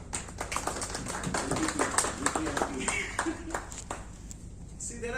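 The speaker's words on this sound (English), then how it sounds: "Can I have a big round of applause" Scattered audience applause at a business networking meeting, a modest round of claps from a small room with a voice speaking over part of it, tapering toward the end.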